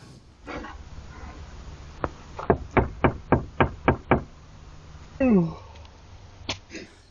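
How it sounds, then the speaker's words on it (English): Someone knocks on a van door at night, a quick series of about seven sharp raps close by, with faint rustling and breathy noises before and after. "he obviously gets impatient and decides he wants to knock again"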